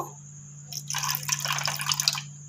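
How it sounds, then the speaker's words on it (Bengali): Water poured in a thin stream into a bowl of about three spoonfuls of sour yogurt, a short splashing trickle over a steady low hum. "এতে আমি জল দেবো অল্প"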